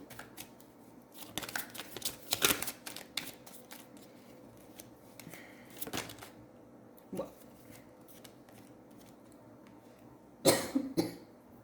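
Tarot cards shuffled and drawn during a reading: several short bursts of crisp card riffling and flicking, loudest near the start and again near the end, with a cough and quiet pauses between.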